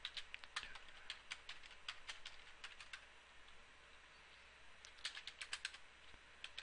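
Computer keyboard typing while configuring network settings, quick irregular clicks in bursts, fairly close but faint, with no talk over it.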